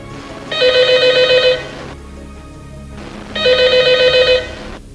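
An old-style telephone bell rings in two long bursts with a pause between them, loud and close, no voices over it.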